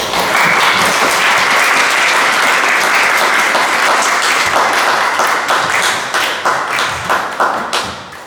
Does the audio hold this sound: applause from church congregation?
yes